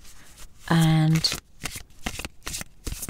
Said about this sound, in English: So I'm just going to go ahead and shuffle these cards.